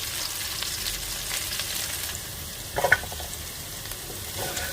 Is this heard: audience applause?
no